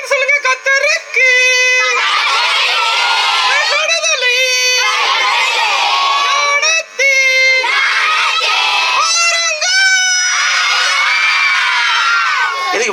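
Children at a puppet show shouting loudly into a microphone, a sustained, strained chorus of high, overlapping cries in several long bursts with only brief breaks.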